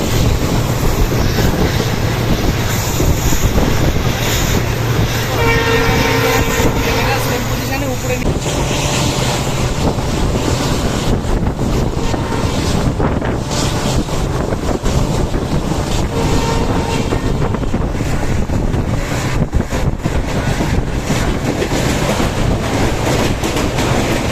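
A diesel-engine passenger train runs steadily on rails near tea gardens at about 96 km/h, with a continuous rumble, rattling wagons and wind buffeting the microphone.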